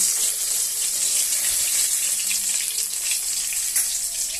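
Fish shallow-frying in hot oil in a pan while a fish and taro curry is being made, a steady dense hiss and crackle running evenly and close throughout, with no talking.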